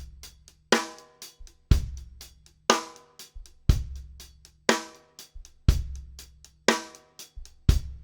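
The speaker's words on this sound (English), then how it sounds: "The first bar is a groove where we're playing 8th notes on the hi-hat with a snare backbeat on" Drum kit playing a half-time groove: steady eighth-note hi-hat with a loud snare backbeat on beat three and kick drums, repeated cleanly for several bars with no talking.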